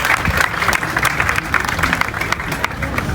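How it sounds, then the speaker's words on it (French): Audience applause for students at a school excellence day ceremony in Keur Massar Sud, Senegal: dense, steady clapping from a large crowd throughout, fairly loud and close, with a few voices faintly mixed in. "ils méritent vraiment des tonnerres d'applaudissements"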